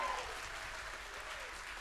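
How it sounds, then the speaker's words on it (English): Loud, dense applause from a concert audience, a steady wash of many hands clapping throughout, with a faint voice briefly underneath. "we need the most raucous, loud applause for Hildy Grossman."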